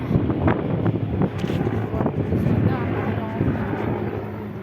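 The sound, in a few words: helicopter flying overhead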